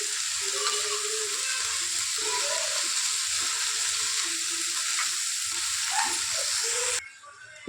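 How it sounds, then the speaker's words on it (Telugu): Cauliflower pieces hit a hot pan of oil for a chana dal fry and set off a loud, continuous close-up sizzle, with stirring scrapes over it until the sound cuts off at the end. "ఇప్పుడు గోబిగడ్డ వేసుకుంటున్నానండి"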